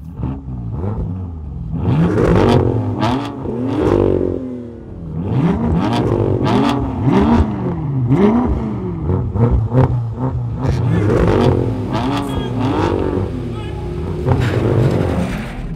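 BMW M2 with a manual gearbox, plus automatic M4, M5 and M6, launch side by side in a drag race, engines roaring and revving through repeated gear changes, loud and close, with a voice talking over the noise.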